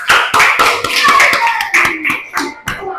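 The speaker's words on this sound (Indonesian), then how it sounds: "Beri tepuk tangan untuk kelompok 2." Classroom of fourth-grade pupils clapping for group 2 after a food chain lesson, a steady burst of fast, overlapping handclaps filling the room for the whole stretch.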